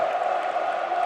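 Mokpo University fans at a college volleyball match roar as a dense, steady crowd noise, loud and continuous for the whole moment.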